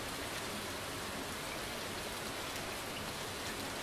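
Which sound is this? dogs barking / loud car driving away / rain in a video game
rain in a video game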